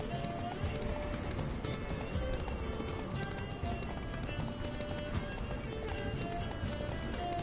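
A horse gallops steadily in The Witcher 3, hooves pounding in a fast continuous rhythm amid a dense game soundscape, with a voice talking over it.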